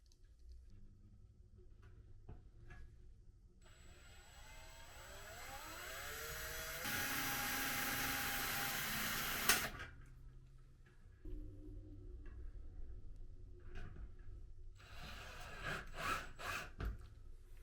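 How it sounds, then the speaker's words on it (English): A power drill whirs up, rising in pitch as it bites into thick metal on a fluorescent light fixture, grinding loudly for a few seconds before stopping, followed by quieter handling noises. "So I'm going to have to drill."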